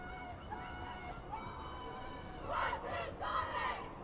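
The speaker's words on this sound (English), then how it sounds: "the Sonics come out pretty strong with their cheer" A cheer squad at a high school rugby sevens championship in a stadium shouts a chant in unison, distant and faint, with two louder bursts near the end over a low crowd murmur.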